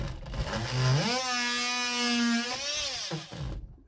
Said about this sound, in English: So I'm just going to cut this out now. So I'm just going to use one of these saws.